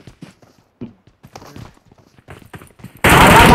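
A loud burst of rapid video game gunfire erupts at the end, following quiet footsteps and faint shuffling sounds, in PUBG.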